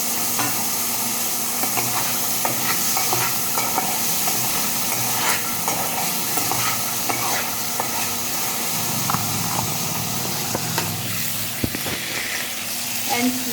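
Mustard seeds sizzle steadily in a hot pan for a Punjabi matar paneer, a dense, continuous frying hiss with a few faint pops near the end and some quiet talk underneath.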